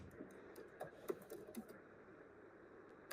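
Quiet computer keyboard typing, a run of light, irregular key clicks with a few sharper taps, close and alone.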